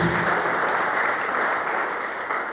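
A church congregation applauds during a sermon in an Indonesian service, a brief, full burst of many hands clapping that tapers slightly as it goes.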